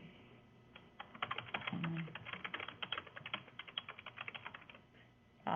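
Someone types on a computer keyboard in a fast, irregular stream of quiet clicks over a faint steady hum, with no talking.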